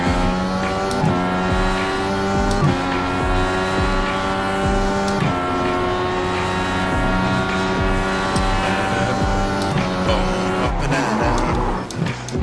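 Race car engine in the iRacing sim holds a steady harmonic whine, dropping sharply in pitch several times as the car brakes and the tyres lock up, loud and continuous with no talking.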